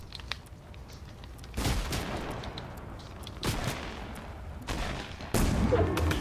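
Gunfire in the video game Fortnite comes as several loud, sharp bursts of shots spaced a second or two apart, with lighter crackling in between and no talk over it.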